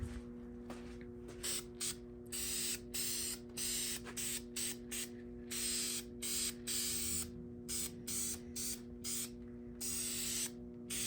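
Cast iron headers for a 1964 hearse being spray painted, in short repeated bursts from an aerosol can with brief pauses between them, close and hissing over a faint steady hum.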